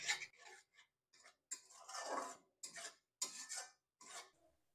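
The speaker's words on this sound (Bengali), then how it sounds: "সবকিছু আমি খুব ভালো করে নাড়াচাড়া করে নেব।" Spices being stirred in a cooking pan over low-to-medium heat, a quiet series of scraping, rubbing strokes of a utensil against the pan, coming in short uneven bursts with brief pauses between.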